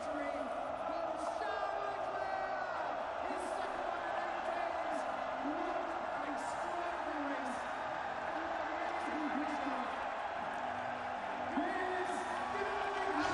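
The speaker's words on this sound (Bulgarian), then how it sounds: "И сега слушайте реакцията на публиката." Crowd of Ferrari fans roaring and cheering at the 2019 Italian Grand Prix podium at Monza, a dense, steady wall of far-off crowd noise with whoops rising over it, and voices talking throughout.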